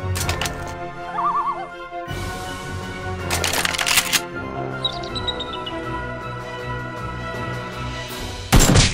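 Toy Nerf blasters fire in a mock battle game, sharp broadband pops and bursts recurring through the stretch, with a loud final shot near the end and faint voices and squeaky sounds in between.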